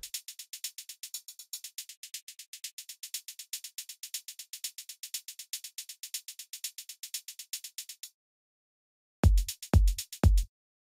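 A programmed hi-hat pattern layered with white noise ticks in fast, even sixteenth-note bursts for about eight seconds, crisp and bright, then stops before a few separate low thumps.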